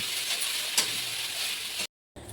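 Soybean momo filling frying in a pan, a steady close sizzle with faint stirring scrapes that cuts off briefly near the end, no talking.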